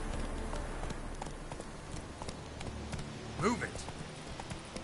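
Roach the horse's hooves trotting in The Witcher 3, a soft rhythmic clip-clop running under a short spoken line and steady ambient noise.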